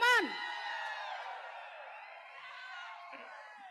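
A large crowd whoops and cheers with sustained shouting at a live success event for the film Max with Kichcha Sudeep, loud at first and then holding steady.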